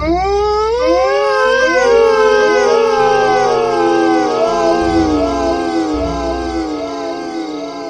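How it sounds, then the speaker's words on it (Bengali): Several long wailing howls overlap and rise and fall, like jackals and dogs howling together, loud and sustained with a low rumble beneath. "চারিদিক থেকে শিয়াল কুকুরের ডাক শুনতে পাওয়া যাচ্ছিল"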